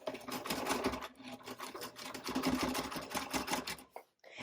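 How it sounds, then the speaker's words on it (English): A sewing machine stitches along the bottom of a tote bag pocket, a fast, close, rattling run of needle strokes that surges and slows in short bursts before stopping near the end, with no talking. "And now as I'm sewing the bottom of the pocket"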